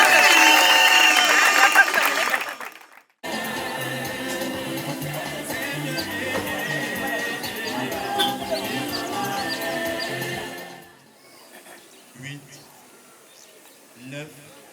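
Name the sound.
guests applauding at a Gabonese customary wedding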